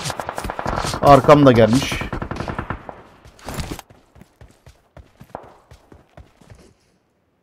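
In PUBG Mobile, a rapid burst of automatic gunfire rattles close by under a speaking voice, then single shots and short bursts pop at irregular gaps and fade toward silence.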